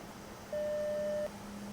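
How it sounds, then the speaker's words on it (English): Single steady electronic beep from an ARC-201 radio running its self-test in the DCS UH-60L helicopter simulator, lasting under a second over a quiet cockpit hum. "It'll beep, it'll say good."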